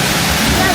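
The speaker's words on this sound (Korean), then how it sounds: "여기서 이렇게 폭포를 감상할 수 있는 장소예요" Waterfall beside a village in Morocco, a dense continuous roar of falling water, loud and close, steady with no breaks.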